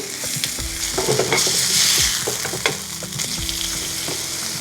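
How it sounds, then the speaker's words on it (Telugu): Dahi toast bread frying in a pan, a loud, close and continuous sizzle with crackling pops and light scraping or stirring sounds, and no voices. "ఇప్పుడు దీన్ని ప్యాన్లో వేసుకోవాలి ఒక్క నిమిషం తర్వాత ఫ్లిప్ చేసుకోవాలి"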